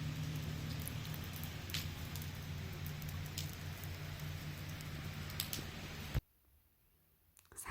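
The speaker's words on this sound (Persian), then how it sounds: "یه بارونی شروع کرد باریدن" Rain falling outdoors during a family picnic in nature, a soft, steady patter with occasional louder drops that cuts off abruptly near the end.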